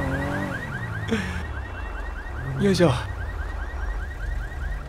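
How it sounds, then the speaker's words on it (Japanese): An alarm rings in the Grand Theft Auto 5 video game, a repeating electronic warbling tone that cycles steadily in the background, while someone speaks briefly and a couple of short sweeping sound effects cut in. "なんかアラームが。"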